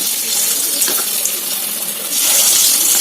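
Potato pieces coated in rice flour, chili powder and salt sizzle in hot oil with a steady, loud hiss that swells louder for the last second, no voices.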